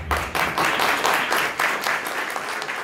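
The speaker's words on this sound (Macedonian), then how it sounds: "Петре Шилегов го заработи овој аплауз за својот вовед на грчки јазик на пресконференцијата" Applause breaks out at a press conference, a dense patter of many hands clapping in uneven bursts, moderately close and lasting the whole stretch.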